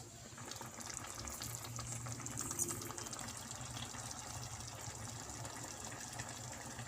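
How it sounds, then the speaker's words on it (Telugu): Water poured into a pan of chicken curry, a soft steady trickle and splash running for several seconds at low volume, with no talk. "ఇందులో కొద్దిగా వాటర్ పోసుకుందాం."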